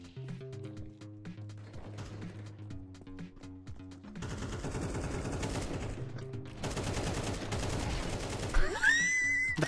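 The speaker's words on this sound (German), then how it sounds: "Die Schüsse kamen da durch diese Platte da." Rapid gunfire from Counter-Strike 2, with bursts of automatic shots that grow denser and louder through the second half over steady game ambience.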